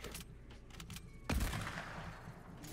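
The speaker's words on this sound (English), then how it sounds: "Hit him with the SMG a couple times." Fortnite SMG fire: a few quiet, scattered shots, then a single heavy blast midway, followed by lingering game noise, all faint and distant.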